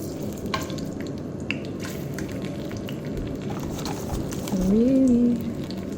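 Gyoza dumplings sizzle and fry in a pan, a steady crackling hiss with a few sharp pops, joined late by a short voiced sound over the frying.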